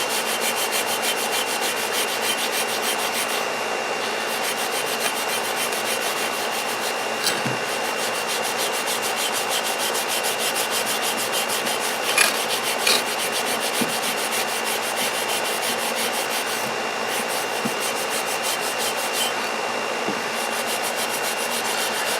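Coarse abrasive working rust off an old axe head, a steady continuous rasping scrape close up, with a few sharper knocks along the way.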